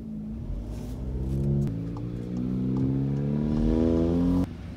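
A Hyundai Veloster R-Spec turbo engine revs from inside or near the car, pitch climbing through gears with a steady rising drone before cutting off abruptly near the end.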